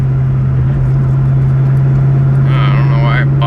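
A 2003 Mustang SVT Cobra's engine idles with a strong steady hum, then its revs rise and falter briefly toward the end, up close and loud, with someone talking over it.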